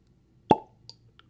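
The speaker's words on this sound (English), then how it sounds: "it's very rare that we actually get the cork pops from new bottles on the show" A single sharp cork pop comes from a new bottle of Elijah Craig Barrel Proof bourbon, close and loud, followed by a couple of faint small clinks in otherwise quiet surroundings.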